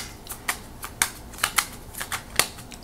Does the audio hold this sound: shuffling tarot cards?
yes